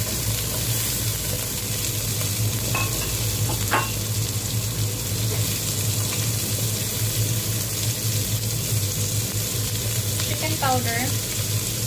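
Carrot and cabbage sizzling and frying in a pan for pancit canton, a steady broadband hiss running throughout, with occasional scrapes and clinks of stirring, no talking.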